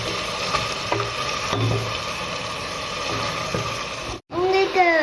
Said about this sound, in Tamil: பொரிய விடணும்.